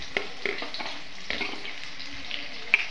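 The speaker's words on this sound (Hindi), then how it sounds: "तो मैं इसमें जीरा डालती हूँ तड़के में, मैं इसमें प्याज डालूंगी" Cumin seeds and chopped onion dropped into hot tempering oil for a tadka, giving soft, fairly faint sizzling and crackling with a few brief clatters, no voice.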